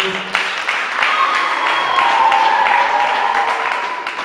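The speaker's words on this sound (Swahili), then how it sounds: "naomba tumpigie makofi" A school audience at a Form Six graduation ceremony at Eloni Secondary gives the committee chairman a loud, sustained round of hand clapping that lasts several seconds.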